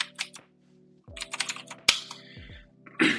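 Someone types a terminal command on a Mac computer keyboard, short clusters of crisp close key clicks with gaps between them, quiet and free of speech.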